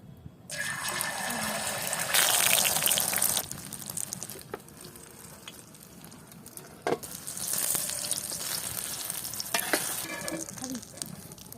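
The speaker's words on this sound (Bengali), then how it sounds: "এখন আমরা ডিমটা ভাজ্যা নেব" An egg fries in a pan alongside vegetable khichuri. A steady, fairly close sizzle runs throughout and swells into louder crackling bursts at intervals, with no talking.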